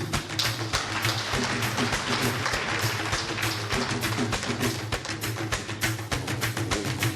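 An audience at a science excellence awards night bursts into sustained, loud applause for a young prize winner, dense rapid clapping continuing throughout with no talk over it.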